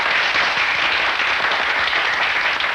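Audience applause at a community voluntary-work festival inauguration, a dense, steady burst of many hands clapping for a few seconds with no talk.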